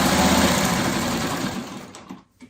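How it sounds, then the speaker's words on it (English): Sewing machine running fast and loud as it stitches fabric strips, a dense close whir that slows and stops after about two seconds, followed by a couple of faint clicks. "then sew on the red"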